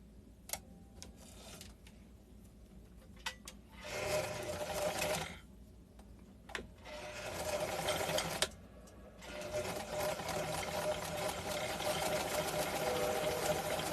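A sewing machine top stitches fabric a quarter inch from the edge, running in several whirring bursts separated by short pauses and sharp clicks, close and fairly quiet.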